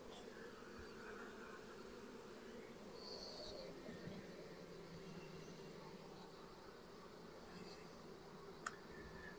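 A faint, steady drone of many honeybees fills the air outdoors as a Kenyan top-bar hive is split, with a continuous buzzing hum and one brief sharp knock near the end.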